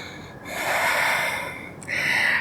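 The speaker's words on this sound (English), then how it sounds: "Inhale and exhale." Breath during a yoga balance flow: one slow, audible inhale followed by a brief pause and then a strong exhale, close and clear with no talking.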